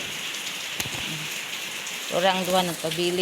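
Steady patter of rain falling outdoors, a soft continuous hiss through the whole stretch, with people talking over it.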